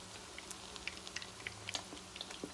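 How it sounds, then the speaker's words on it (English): Chewing on a bite of cooked rice with shrimp, soft close mouth clicks and crunches in an irregular rhythm, faint and alone. "Let me give it a taste."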